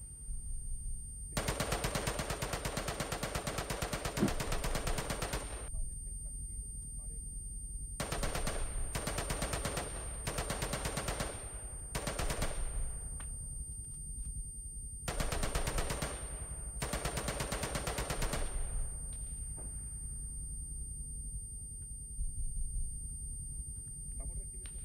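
Maxim machine gun fire rattles in long sustained bursts across a trench battle in a video game, several loud bursts separated by short pauses, with talk over the action.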